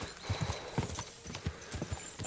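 A horse trots in a video game set around Trosky, its hooves making a quick, regular clip-clop rhythm close by, with no other sounds over it.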